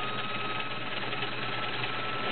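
A vintage Kenmore model 1601 sewing machine stitching with a stretch cam fitted, giving a steady, continuous whirring motor hum with a fast mechanical chatter, close and even throughout, with no talking.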